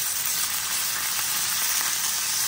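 Roast beef searing in smoking hot oil, a loud continuous bright sizzle and crackle right up close, steady throughout with no voices.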